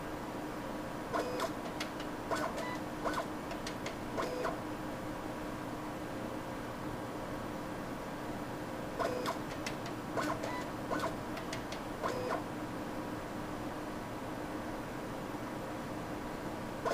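Automated syringe being washed with dichloromethane solvent on a lab instrument, bursts of soft mechanical ticking and clicking in repeated cycles over a steady fan-like hum.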